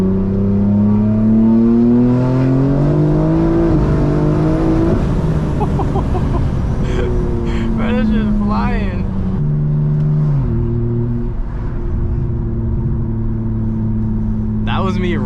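A tuned BMW G82 M4 rolls into third gear, its engine droning steadily and climbing in pitch across the shift, loud and close from inside the cabin, with a voice speaking briefly over it.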